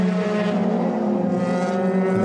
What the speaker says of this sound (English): As the lights come on, the revs rise, and away we go.